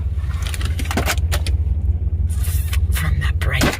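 A truck rolling down the road gives a steady low cabin rumble, overlaid by intermittent clatter and indistinct talking.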